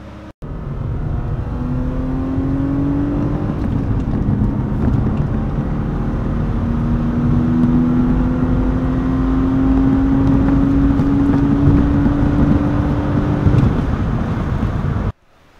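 A BMW E36 driven on the road, its engine droning loud and close with rising revs through the gears, under steady wind buffeting and with no talk.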